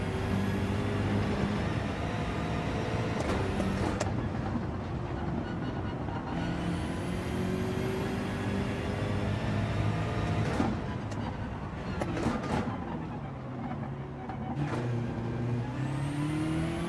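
A BMW engine in Gran Turismo 7 races continuously, its revs climbing and dropping through repeated gear changes, loud and steady throughout with whooshing shifts and no talk.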